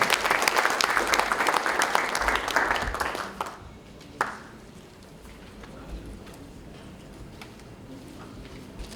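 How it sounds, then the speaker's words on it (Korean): Audience applause at a Democratic Party local government heads' training event, welcoming the party leader; dense clapping fills the first three and a half seconds, then fades out with a single late clap and a quiet room. "큰 박수로 맞아주시기 바랍니다"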